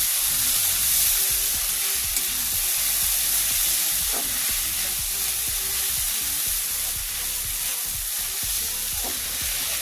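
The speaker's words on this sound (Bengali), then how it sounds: "এবার সাবুটা ভালো করে নাড়াচাড়া করে নিচ্ছি" Drained sago pearls stirred in a kadai over a low flame, a continuous dense sizzle with rhythmic scraping strokes throughout, close up and with no talking.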